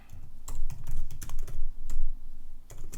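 Fast, uneven typing on a computer keyboard, close and clear, with bursts of clicking keystrokes and short pauses between them.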